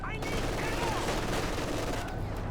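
MG42 machine gun fire in a World War II real-time strategy match, a dense, continuous rattle of gunfire mixed with battle noise, steady and loud throughout without clear pauses.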